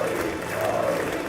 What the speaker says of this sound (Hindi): नजारा ऐसा कि पीएम मोदी के पोडियम पर आने के बाद भी तालियां और मोदी मोदी के नारे नहीं थमे